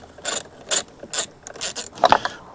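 Ratchet wrench clicking while loosening the battery terminal on a Honda Pioneer side-by-side, heard as several close, sharp bursts of rapid pawl clicks with short pauses between, ending with a metallic clank.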